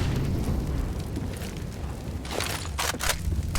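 An incendiary grenade bursting into a roaring, hissing spread of flame in CS:GO on the Inferno map during a competitive match, a steady loud rush with sharper crackles near the end.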